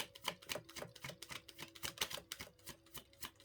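Rapid, soft riffling clicks of playing cards being shuffled, a quick continuous flutter heard up close and fairly quiet.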